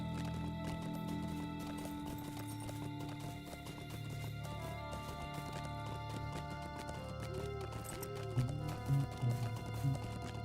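Horse hooves in the online game Lord of the Rings Online clip-clop in a steady trotting rhythm over a layered ambient music bed, with a few louder hoof beats near the end.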